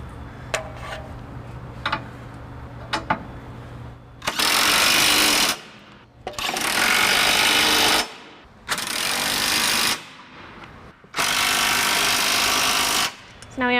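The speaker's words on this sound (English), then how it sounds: "I'm just going to snug all 4 bolts down with an 11/16 inch socket and my electric drill" An electric drill with an 11/16 inch socket whirs loudly in four long bursts, tightening trailer hitch bolts on a 2018 Chevrolet Cruze Hatchback, with brief pauses between them, after a few light metallic clicks at the start.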